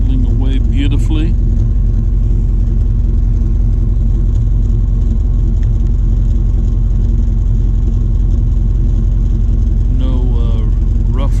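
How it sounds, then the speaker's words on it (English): A truck engine with rebuilt fuel injectors idles with a steady, even low rumble throughout, close by, with someone talking briefly at the start and near the end. "you listen to the truck here, and it is idling away beautifully"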